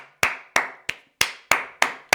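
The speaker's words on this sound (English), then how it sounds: "Let's clap it up for Doechii." Seven sharp, separate hand claps at a steady, slightly uneven rhythm, each a crisp close snap with a quick decay, alone and fairly loud.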